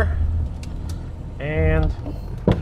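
Jaguar XJ6 saloon driving at about 40 km/h: a low, steady engine and road rumble with a brief louder tonal whine midway and a short clunk near the end, heard from inside the car.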